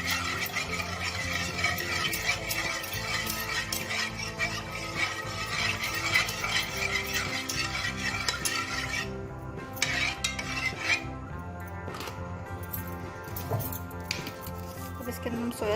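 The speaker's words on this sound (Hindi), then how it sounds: "हमने इसमें केचप डाल दिया, इसको मिक्स करेंगे अच्छे तरीके से।" A spoon stirs ketchup into a homemade chilli sauce mixture, producing steady clinks and scrapes against the bowl throughout, with music-like tonal background underneath and no talking.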